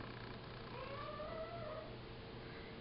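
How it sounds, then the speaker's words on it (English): A pet cat meowing faintly in the background of a quiet indoor room, a few drawn-out wavering cries over low household hum, no talk. "here my cat's crabbing around in the background there"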